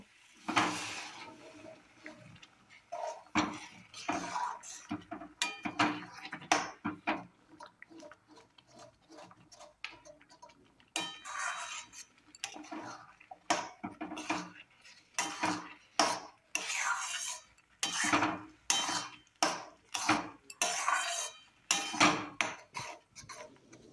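A spoon stirs a green pea kachori filling in a pot, with repeated clanks and scrapes against the metal coming in irregular bursts and brief pauses, close and clear.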